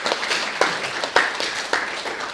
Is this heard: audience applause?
yes